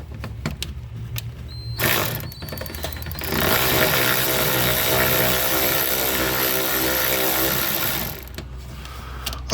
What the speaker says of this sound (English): a cordless ratchet is the kind of thing you don't realize how much you want it until you get one